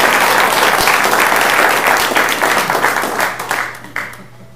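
An audience applauds to welcome a speaker at an evening lab talk. The clapping is loud and dense at first, then thins out and fades toward the end.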